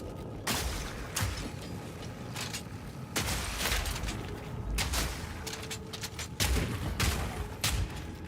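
Gunfire and a grenade blast in the game Supervive: sharp repeated shots and bursts scattered across the stretch, some heavier booming hits among them, fairly loud over a dense battle background.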